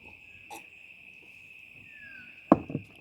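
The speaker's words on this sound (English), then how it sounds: "Glad I'm not a cicada. They're noisy fuckers too." Cicadas drone in a steady, thin, high-pitched buzz that runs unbroken through the whole stretch, joined by a soft knock early on and a brief clatter near the end.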